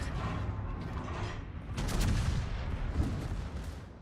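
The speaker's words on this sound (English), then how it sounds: "the obligatory exploding Nuremberg" Nuremberg cruiser blowing up in a naval battle video game, a dense, rumbling roar of blasts and crackling bursts with sharp peaks around the middle, moderately loud and continuous.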